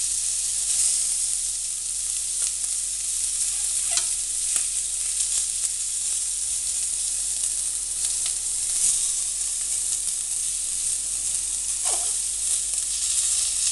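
Oxtail pieces brown in a pan with a loud, continuous close-up sizzle, broken now and then by faint clicks and scrapes as the meat is turned.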